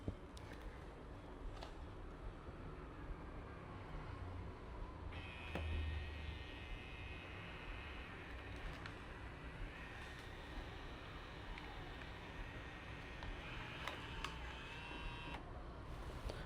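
A Fujifilm Instax Mini Evo instant camera prints a photo, giving a faint, steady mechanical whir with a brief higher-pitched motor whine partway through, alone and close-up in a quiet room.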